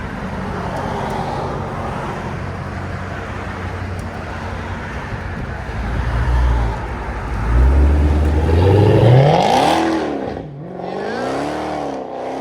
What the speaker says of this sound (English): Dodge Charger Hellcat wide body SRT Hem.